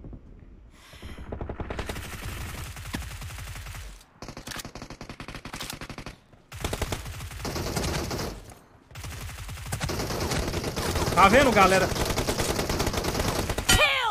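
Rapid bursts of submachine gun fire in PUBG Mobile crackle through most of the stretch, with short pauses between volleys and a voice speaking briefly over the shooting.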